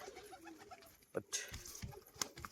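Pet fancy pigeons coo softly in the background amid low rustling and a few brief thumps and flutters, with faint voices nearby.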